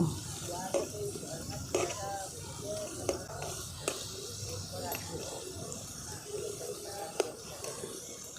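Layered moong dal lachha nimki frying in hot oil, a steady bubbling sizzle with light stirring clatter, close and continuous, with a voice talking over it throughout.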